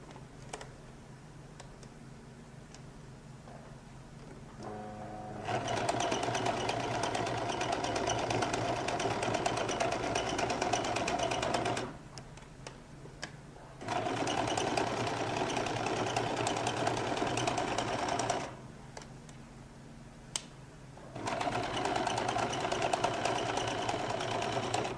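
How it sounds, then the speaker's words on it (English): A sewing machine runs gather stitches on a lady's jacket in three long bursts of rapid, steady mechanical whirring and clatter, with short quiet pauses between them. "So I'm going to start by running a few gather stitches"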